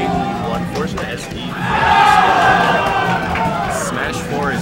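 A tournament crowd at a Project M match roars loudly, the cheering swelling to a peak midway, under a commentator talking over it.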